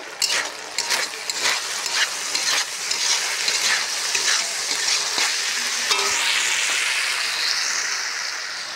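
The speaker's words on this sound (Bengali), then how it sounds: "তারপরে এই যে এখানে আলু ভাজি হচ্ছে।" Potatoes fry in a pan with a steady, close hiss of sizzling oil, broken by repeated scraping and stirring strokes throughout; no one speaks.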